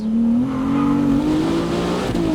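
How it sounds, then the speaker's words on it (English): A performance car accelerates hard from close by, its engine note climbing steadily with a brief dip where an abrupt gear shift cuts in, loud and continuous without talking. "they're pretty abrupt, those gear shifts in this mode"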